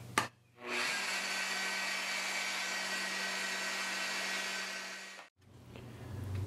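A BDS Maschinen MAB 485SB magnetic drill with a large bit chamfers the edge of a drilled hole in metal, giving a loud, steady whirring grind that runs about four and a half seconds and then stops abruptly.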